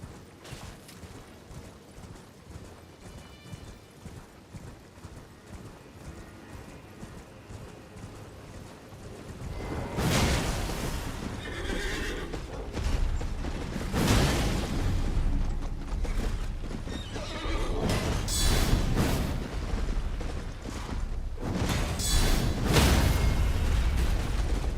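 In Elden Ring: Shadow of the Erdtree, a mounted knight's horse gallops with clip-clopping hoofbeats amid combat, quiet at first, then heavy bursts and booming impacts that swell and recur toward the end.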